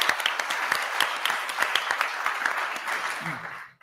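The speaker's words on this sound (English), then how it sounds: "Yes, round of applause" An audience at an institute launch event applauds, with steady, moderately loud clapping from a room full of people that continues evenly and then cuts off abruptly.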